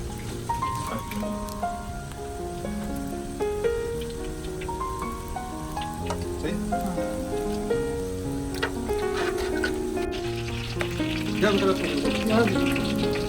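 Onions frying in a pot for Karachi chicken biryani give a steady, close crackling sizzle that runs throughout, partly under melodic background music that swells toward the end.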